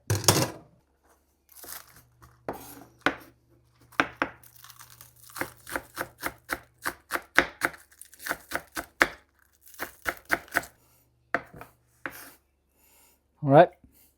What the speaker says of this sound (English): Then scallion and grate some fresh ginger.